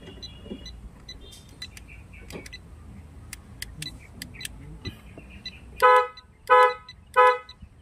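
A Ford Focus horn with a suspected faulty clock spring sounds three loud, short blasts in quick succession near the end, after a stretch of quiet clicking and faint background noise.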